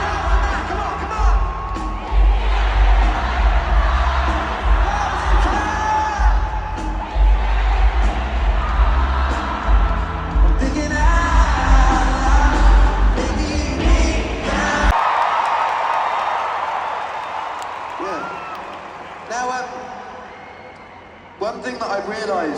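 A large concert crowd at a show in Vancouver loudly sings and screams the chorus of a song, a dense sustained roar that later thins out as a voice speaks.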